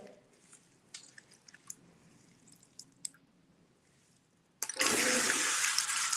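At a salon shampoo station, faint handling noises and soft wet squishes lead into a sudden strong rush of running water that continues steadily to the end.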